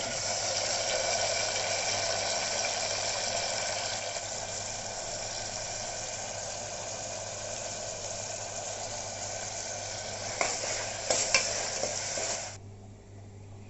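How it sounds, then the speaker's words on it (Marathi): Onion, tomato and curry leaves fry in hot oil in a pan as a steady, soft, even sizzle. A few brief clatters come near the end before the sound cuts off. "तेल गरम झालेलं आहे, तर कांदा, टमाटर, कढीपत्ता मी आता भाजून."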